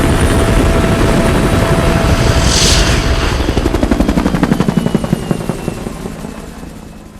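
Helicopter carrying a critically injured patient from a train wreck in Osaka, its rotor thudding loudly and steadily before the beat turns sharper and more distinct as it lifts off and slowly fades.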